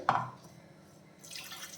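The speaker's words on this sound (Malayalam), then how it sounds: "ഇനി മിക്സിയുടെ ജാറിൽ കുറച്ച് വെള്ളം ഒഴിച്ച്" A quiet splash of water goes into a mixer grinder jar for wheat dosa batter, followed by a faint, brief hissy trickle.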